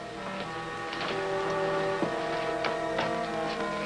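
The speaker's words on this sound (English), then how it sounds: "Hefty, plug in the sander, will you?" An electric sander runs in an old Dick Tracy radio drama, giving off a steady mechanical whir with rattling, ticking accents, close and fairly loud with no talk over it.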